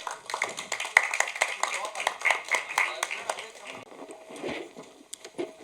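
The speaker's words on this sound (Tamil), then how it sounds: "ஒரு கைத்தட்டலோட லெட்ஸ் வெல்கம் ஆதித்யா கதிர்." Scattered clapping from a small audience at a film success meet greets a guest, sparse and fairly faint, with people talking over it.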